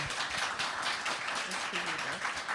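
Audience applause at a book launch event, a broad, continuous wash of clapping from a crowd, with a voice speaking over it toward the end.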